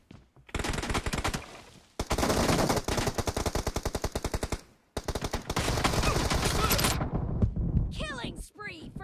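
Automatic weapon fire in the mobile shooter PUBG Mobile, loud and close, with long rapid bursts broken by short pauses, ending with a few sharp, scattered shots.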